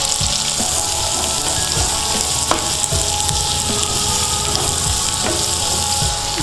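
Onions fry in hot oil with green chillies for a vegetable chapathi roll filling, a continuous close sizzle broken by scattered scrapes and taps of stirring, with no one speaking.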